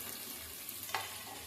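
Onions sizzle softly in an oil-filled pan, a steady faint frying hiss with a brief scrape of stirring partway through.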